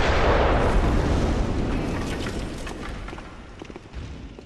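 Cannon-arm enemy firing in the Bloodborne video game: a loud, booming blast opens, then a long, rumbling decay fades out over several seconds with a few small crackles and debris hits.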